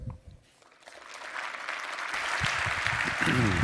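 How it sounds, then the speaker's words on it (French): Applause from the audience at an official address announcing a European cyber dome swells gradually from a quiet start into steady, building clapping, with faint voices underneath. "merci pour vos applaudissements"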